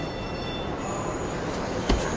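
A train at a station gives a steady low rumble with faint high squealing tones, ending in a single brief clank near the end, with no talking.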